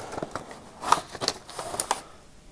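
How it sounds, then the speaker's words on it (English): A cardboard Balrog model kit box, already cut, is pulled open: a run of light crinkles, taps and papery clicks close by, with no talking. "So let's go ahead and open the box."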